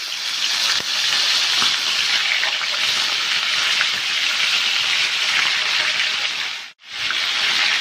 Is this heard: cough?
no